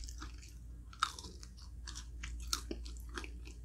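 Close crunchy chewing of crispy bacon at a breakfast meal, with soft wet mouth sounds and a few sharper crunches, no talking.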